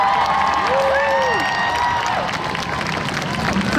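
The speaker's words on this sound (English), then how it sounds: "A huge round of applause." Sustained applause and cheering from an audience at a wand combat show, dense clapping with whoops and a shouting voice riding over it throughout.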